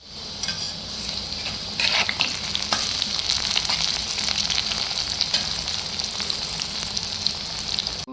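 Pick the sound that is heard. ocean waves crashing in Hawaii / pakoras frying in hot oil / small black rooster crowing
pakoras frying in hot oil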